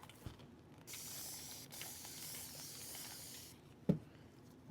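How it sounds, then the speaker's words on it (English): An aerosol can hisses in one steady spray lasting nearly three seconds, quiet and close, with a brief click and clunk afterward. "let me spray this."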